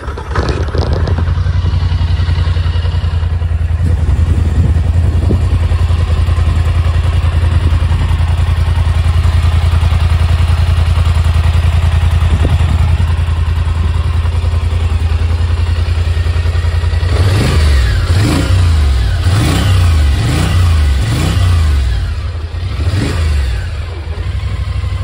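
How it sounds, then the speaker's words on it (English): A 2023 Polaris Sportsman 850 Highlifter Edition ATV engine runs loud and steady with a deep low rumble, then blips through a quick series of throaty revs near the end. "this exhaust is actually maybe a tiny bit throatier"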